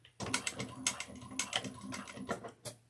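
A sewing machine stitches a bucket bag in quick bursts of rapid mechanical clatter, with short pauses between runs. It is close and fairly quiet, and no one speaks.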